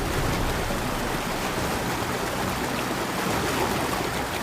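Fast, strong water in a stream in the Sierra Nevada de Cocuy mountains of South America rushes in a steady, dense wash of noise, close and continuous with no voices.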